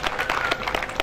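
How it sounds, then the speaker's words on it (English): An audience claps for golfer Victoria Lovelady at a Ladies European Tour Q&A, with short scattered claps over a low crowd murmur. "let's have a bit of a round of applause first"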